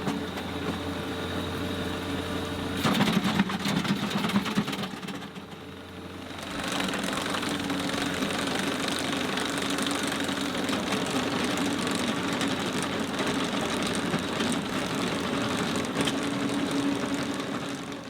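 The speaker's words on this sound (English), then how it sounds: "it's cutting a trench just fine. It's not binding up or overloading the hydraulic motor" A Baumalight TN548 trencher on a skid steer, run at low hydraulic flow and high throttle, cuts a trench through muddy soil. A steady engine and hydraulic drone continues throughout, with a brief dip in level partway through.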